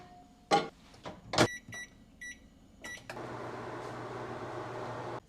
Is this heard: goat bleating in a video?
no